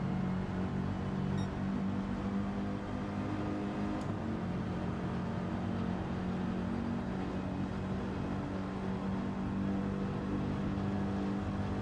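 A Toyota Supra race car at top speed in a slipstream during a Gran Turismo 7 online race at the Nürburgring, its engine a steady, unbroken drone held throughout, with no talk over it.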